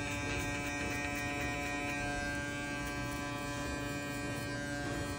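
An electric hair clipper runs steadily and close up, cutting afro hair for a fade, with a constant buzzing hum and no talk.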